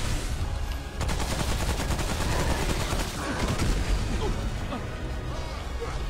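Dense, rapid gunfire rattles without pause through a Subject 2923 boss fight, with layered bursts and crashing impacts close up and loud the whole way.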